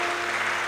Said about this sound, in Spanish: ¿Cuántos pueden levantar un aplauso a Dios de agradecimiento por su palabra?